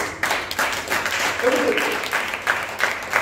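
A church congregation claps and cheers in a continuous broad wash of applause that fills the room, with voices mixed into the noise throughout.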